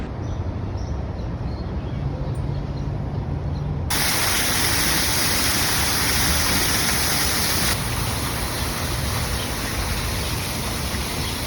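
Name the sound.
water fountain splashing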